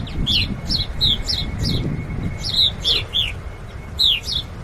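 Several birds chirp nearby in quick, high tweets scattered over a steady low background rumble, with no talking.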